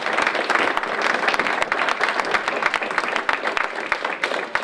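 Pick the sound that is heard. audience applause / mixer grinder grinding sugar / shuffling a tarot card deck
audience applause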